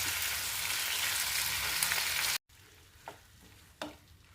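Ingredients for a green peas curry sauté in oil with a bright, steady sizzle that cuts off abruptly midway, leaving a quieter background with two soft knocks.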